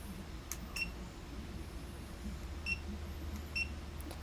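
A TST tyre pressure monitor for an RV beeps as its set button is held: a few short, high electronic beeps, one early and a pair later, over a low steady hum.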